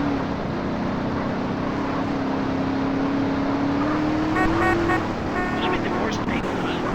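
A car engine in Grand Theft Auto: San Andreas holds a steady, slowly rising drone for about five seconds, then cuts off, followed by a few brief horn-like tones over game background noise.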